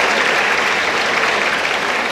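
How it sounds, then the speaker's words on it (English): A graduation ceremony audience applauds the graduates at a medical college, a dense, loud and continuous clapping that fills the room. "Let us all give a loud round of applause for our dear graduates"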